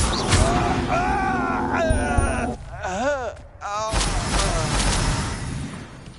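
Spell-casting effects from the Hogwarts Legacy video game: sweeping, warbling magical tones and swooshes, with bursts of crackling impact noise before and after a brief quieter gap.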